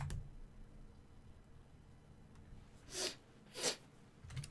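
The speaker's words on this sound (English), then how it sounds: "Sorry, I'm sniffing a lot." Two quick, sharp sniffs, close and fairly loud against a quiet room, come about a second apart near the end, with a faint breath at the start.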